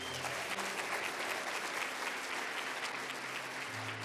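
Church congregation applauding during a sermon, a dense, even, continuous wash of many hands clapping at steady loudness throughout.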